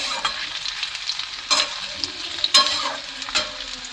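Beans sizzle softly as they fry in a pan on a gas stove at medium heat, with several sharper scraping stirs breaking the steady crackle; nobody speaks.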